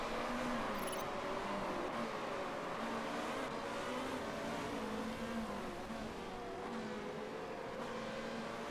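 Race cars in Motorsport Manager drone steadily in traffic, several engines overlapping in a continuous whining hum with gently shifting pitch, moderately loud and with no talk.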